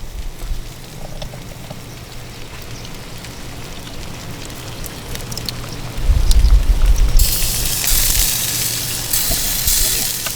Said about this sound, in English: The juices are dripping down that coal. Hence all the smoke and the steam.